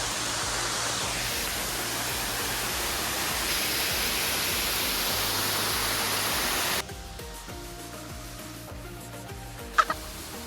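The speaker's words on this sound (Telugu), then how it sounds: "మేము వాటర్ ఫాల్కి వచ్చేసాం గైస్." Continuous broadband rushing of a waterfall dominates for several seconds, then cuts to a quieter background with a couple of sharp knocks.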